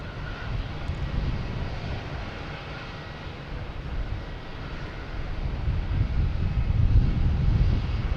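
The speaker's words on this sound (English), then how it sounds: "Now we have a Delta coming in. From Salt Lake City, an A321neo." Delta Airbus A321neo airliner arriving at Boston Logan from Salt Lake City, a steady low jet roar with wind buffeting that swells louder toward the end as it draws nearer.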